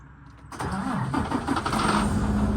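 A truck engine cranks and catches after a short quiet moment, then settles into a steady, loud, close idle with a low rumble that carries through to the end.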